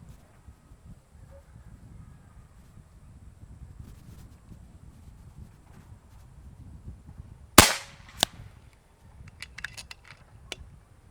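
FX King .30 airgun firing slug or pellet outdoors on a windy range: one sharp loud crack, then a fainter second report, with scattered clicks and soft wind rumble around them.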